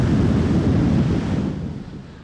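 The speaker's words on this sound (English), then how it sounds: "The waves are nuts" Heavy surf pounding the shore at Ocean City during storm Earl, a loud continuous roar of breaking waves mixed with wind buffeting, easing slightly toward the end.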